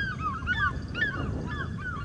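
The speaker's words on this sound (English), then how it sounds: "there's the fish eagles" African fish eagles call during a sunset safari drive, giving a series of high, yelping, downward-sliding cries from a tree overhead over a low outdoor rumble, with no talk.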